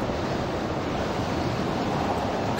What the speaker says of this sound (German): im Hintergrund ist sehr viel Windgeräusch zu sehen